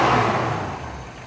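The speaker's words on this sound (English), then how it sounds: "You can just hear how smooth this car runs." A 1962 Chevrolet Impala with a 327 V8 idling evenly with the choke off, a smooth low rumble with no revving, heard close up.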